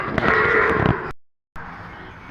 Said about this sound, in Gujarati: તો અત્યારે બધી આપણે જો આ બધી દૂધની ગાયો અત્યારે બહાર કાઢી લીધી છે